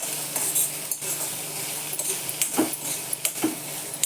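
Boiled corn kernels for corn chaat being stirred in a pan, with metallic spoon clinks and scrapes over a faint low sizzle, several quick taps near the end, close by and without talk.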